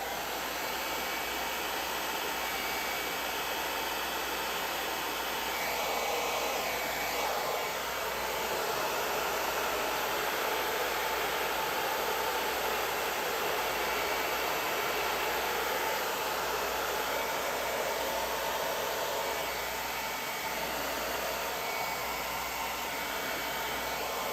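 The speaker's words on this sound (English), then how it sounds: "I'm going to use my hair dryer to dry them" A hair dryer blows continuously at close range, a steady loud whooshing hum that never lets up.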